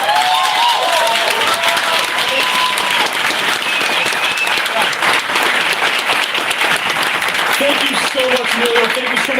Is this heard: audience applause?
yes